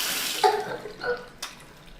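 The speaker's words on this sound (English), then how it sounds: "The water sprays." Shower water spraying hard in a bathroom, a steady broadband hiss lasting about two seconds, broken by a couple of small knocks and splashes.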